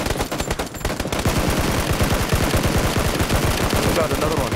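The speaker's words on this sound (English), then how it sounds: "Oh, I'm getting shot at." Rapid automatic gunfire in PUBG, a dense burst of shots with a steady fast rhythm running nearly the whole time, loud and close, with no talking over it.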